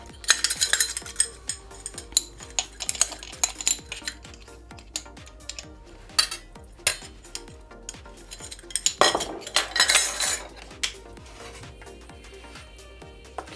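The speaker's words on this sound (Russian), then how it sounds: "Все хорошенечко перемешиваем." A spoon stirs sauce in a bowl for a casserole, with steady scraping and clinking strokes against the dish and a few louder rattling bursts, close and fairly loud, with no voice.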